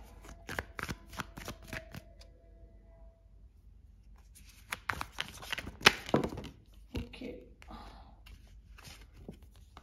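Tarot cards are shuffled and drawn in quick, crisp riffles and slaps, close and fairly soft, with a louder flurry of card handling near the middle and a voice speaking intermittently.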